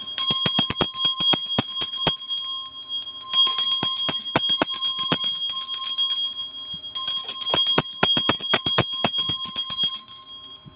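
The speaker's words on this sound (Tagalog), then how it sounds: "I-ring ko itong Tibetan bell." A Tibetan bell is struck repeatedly, producing a rapid run of bright metallic strikes with long shimmering overtones that ring on, with the rhythm restarting three times and no voices.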